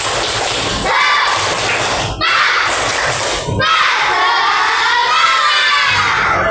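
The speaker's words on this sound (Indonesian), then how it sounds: "Coba tepuk semangat" Schoolchildren in a fourth-grade classroom chant and clap together in a loud spirit clap, with thumps and shouting voices filling the room in bursts.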